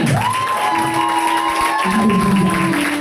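A church congregation cheers and acclaims during a testimony service, a dense crowd roar with whoops and sustained voices held steady and loud throughout.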